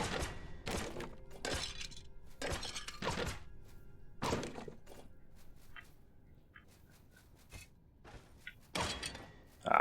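Objects smashed one after another in the fantasy RPG Stoneshard, a run of sharp breaking and shattering crashes with thuds, loud and close, then a quieter stretch before a few final impacts.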